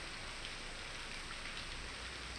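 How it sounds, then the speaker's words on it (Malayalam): Steady rain falls outdoors near a college campus, a continuous even hiss with no talk over it. "മഴ കൂടണുള്ളൂ"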